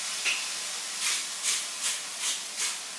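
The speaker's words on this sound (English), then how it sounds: "let this steam, let this cook" Stir fry noodles with chicken and mixed vegetables steaming in a hot pan, a soft steady hiss with several gentle swells of sizzle at a close distance, no talk.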